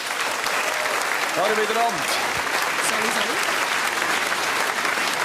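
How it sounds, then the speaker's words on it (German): An audience claps warmly at a Swiss rural cooking-show finale, steady applause filling the whole stretch while a few voices speak briefly over it. "Und auch mit am Tisch und eben so einen warmen Applaus"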